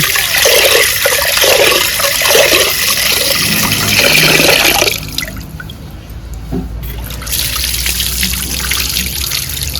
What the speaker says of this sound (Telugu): శుభ్రంగా 2 సార్లు కడుక్కున్నామండి.